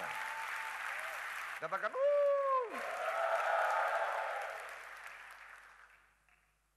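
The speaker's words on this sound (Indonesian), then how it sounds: "Tepuk tangannya lebih setia selamanya." A church congregation breaks into loud, sustained applause right after a brief spoken word, then the clapping slowly fades away.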